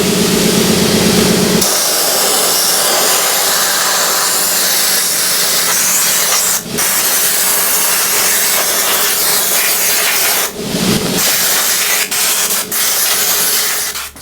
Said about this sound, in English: we'll have to sandblast that little area here because it's pretty rusty